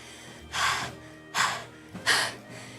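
Three heavy, breathy exhales in quick succession, like someone panting, close to the microphone with short pauses between.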